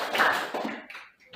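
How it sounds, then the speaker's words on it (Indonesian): Classroom clapping for a student named Vero after a closing prayer, a short burst of several hands clapping up close that fades out within a second or so. "Tepuk tangan buat Vero."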